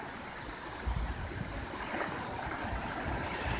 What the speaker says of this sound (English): This is the beach this morning.